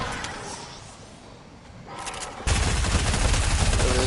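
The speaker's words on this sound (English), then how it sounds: "Somebody's shooting over here." Gunfire in a PS4 shooter game: a distant, muffled rattle of shots gives way to a sudden loud, sustained burst of rapid fire that fills the rest of the moment.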